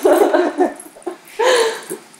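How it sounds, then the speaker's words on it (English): A dog playing with a toy bunny makes growling, whining vocalizations in two bursts, close and moderately loud, with no talk over them. "So this is Mooji growling in the back here playing with his bunny."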